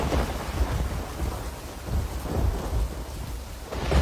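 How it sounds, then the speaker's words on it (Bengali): Heavy rain pours steadily while low rolls of thunder rumble and swell throughout, a dense continuous storm with no voices. "এত বৃষ্টি নেমেছে"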